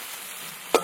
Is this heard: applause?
no